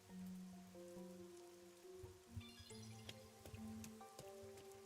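Rain in the video game Rain Code, a soft constant patter beneath eerie city ambience, with low tonal music and scattered faint clicks layered over the quiet downpour.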